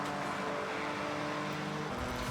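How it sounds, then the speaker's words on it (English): Engine drone of a race car in the Forza Horizon 6 rally convoy event, a steady continuous hum with faint gear shifts, heard at moderate distance with no voices. "He at least has some engine sound."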